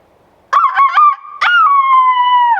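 A human voice imitates a chicken, giving a few quick clucking bursts followed by a long drawn-out crowing call, loud and close with no other sound around it.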